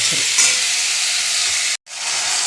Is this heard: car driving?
no